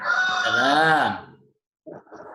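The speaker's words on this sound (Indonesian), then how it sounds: "Ini jago keluruk." A rooster lets out a loud, close crow with a rising and falling wavering call, followed after a short pause by a brief rougher sound.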